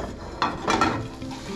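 A Spanish tortilla slid back into a frying pan with a soft thump and a short burst of sizzling and scraping, close and moderately loud.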